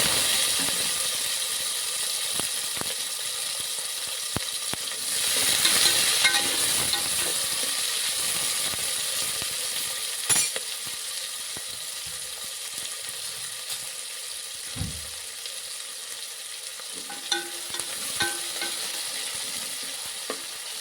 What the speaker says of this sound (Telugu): ఇప్పుడు ఉల్లిపాయ ముక్కలు వేసుకుందాము.